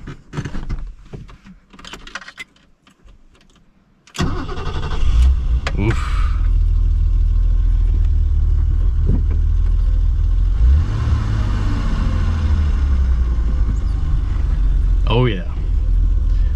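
An old BMW E12 528i with its 177 hp engine cranks and fires up after a quiet start, then settles into a loud, deep idle with a couple of throttle blips, while someone talks over it.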